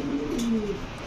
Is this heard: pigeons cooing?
yes